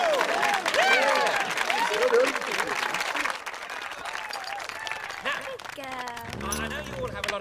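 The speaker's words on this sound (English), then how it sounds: "so give yourselves a big clap" A group claps after a fundraising announcement, a dense burst of applause with whoops that tapers off, followed by people talking and a brief exclamation.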